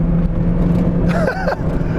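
A 1999 Mazda Miata NB engine drones steadily under full throttle, a constant close in-cabin hum with a brief whining sweep partway through.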